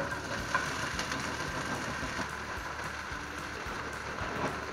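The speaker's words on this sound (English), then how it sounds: "now that the oil is hot enough, we're gonna dump hash browns in. Which you can already hear it sputtering" Hash browns sputter and crackle in hot oil in a pan, a steady dense hiss that runs throughout at moderate loudness with no talking.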